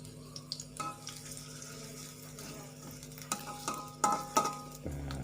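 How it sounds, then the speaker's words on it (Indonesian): Shallots and garlic frying in a pan for Sundanese nasi goreng, with a steady sizzle carrying a few clinks and scrapes of stirring near the end. "kita masukkan bawang merah sama bawang putihnya terlebih dahulu. Digoreng."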